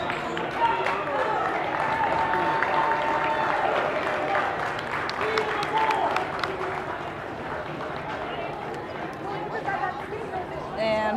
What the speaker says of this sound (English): And the classical cheering section on their feet.